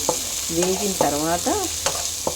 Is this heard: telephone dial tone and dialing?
no